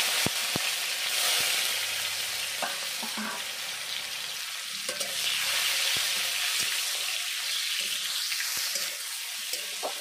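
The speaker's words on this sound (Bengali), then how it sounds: "টমেটোটা ভেজে নিয়েছি।" Chopped tomato and whole cumin seeds frying in white cooking oil for a vegetarian potato and soybean curry, a steady close sizzle with occasional sharp stirring clicks and scrapes throughout, no talking.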